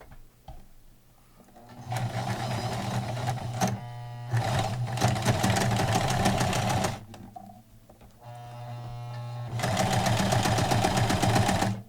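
A sewing machine stitches a folded bandage onto a PPE mask in three bursts of fast, close mechanical whirring, separated by short pauses, with no talking.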